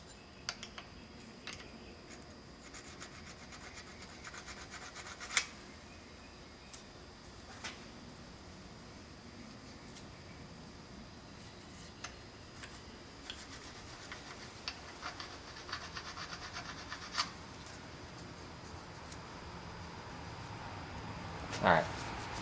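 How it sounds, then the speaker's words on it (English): A file rasps against metal, taking burrs off an engine crankshaft and its Woodruff key slot during a Jeep 4.6 stroker timing set install: faint, intermittent rubbing strokes and small ticks over a low steady hiss, with a sharper scrape near the end. "I've gotten rid of the burrs on the crank and for the Woodruff key."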